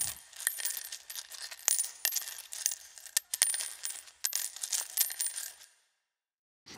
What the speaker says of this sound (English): I did record some extra scrambling sounds of folks picking up coins as well,